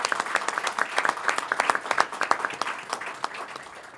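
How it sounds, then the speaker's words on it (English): Audience applause at a state press event with the governor, a dense run of many hands clapping at moderate distance, steady for the whole stretch with no talk over it. "Let's give him a round of applause."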